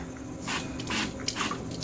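A BumGenius cloth diaper sprayer gives several short pulsed bursts of water spray, each a brief hiss over a low, steady background.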